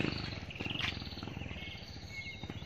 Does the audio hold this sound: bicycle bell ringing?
no